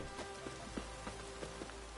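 Rain falls in The Witcher 3, a soft patter of drops on a surface with scattered louder taps, faint and steady throughout, no voices.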